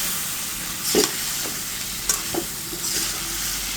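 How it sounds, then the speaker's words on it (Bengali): Fried koi fish stirred into a spicy masala in a pan, a steady low sizzle broken by a few soft scrapes and knocks of the spatula, close and with no speech. "এই পর্যায়ে মাছটা দিয়ে এই মশলার ভিতরে কষিয়ে নেব।"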